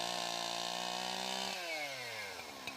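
A chainsaw runs loud and close during ground tree-care work, its engine holding a steady high whine before dropping and revving down in pitch.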